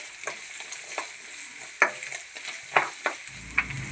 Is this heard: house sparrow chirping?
no